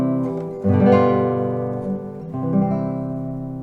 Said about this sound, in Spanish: Y estos son los acordes de tónica y dominante.